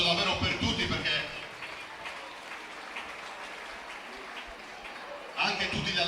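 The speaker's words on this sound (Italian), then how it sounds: "un bel applauso davvero per tutti" A crowd at a youth football tournament awards ceremony claps, with loud applause at the start fading to scattered clapping, then rising again at the end, with voices talking over it.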